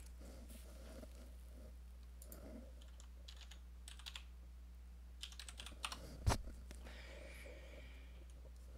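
Fingers typing on a computer keyboard during a casual talk show, soft scattered key clicks in short irregular bursts, close but quiet, with a few louder taps and no speech over it.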